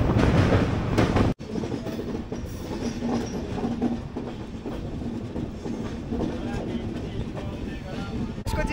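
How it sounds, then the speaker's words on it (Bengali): A Kanchankanya Express passenger train runs through jungle, its steady rumble and rhythmic rail clatter filling the whole clip, with a sharp break near the start and a faint voice underneath. "দুদিক দিয়ে জঙ্গল আর মাঝখান থেকে আমাদের ট্রেন ছুটে চলেছে।"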